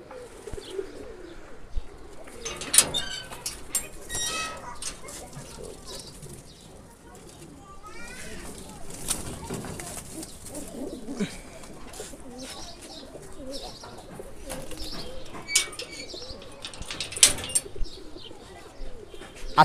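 Pigeons coo repeatedly in a loft, their low throaty calls rising and falling over about twenty seconds amid wing rustles, chirps and faint background voices.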